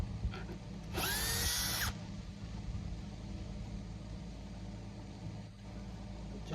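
A power drill whirs once for about a second, close and loud, backing screws out of a timber framing jig, then leaves a quiet room hum behind.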